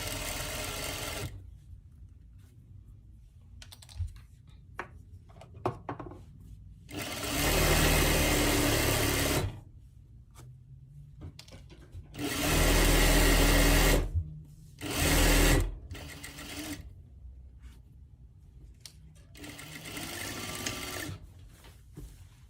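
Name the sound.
sewing machine stitching fabric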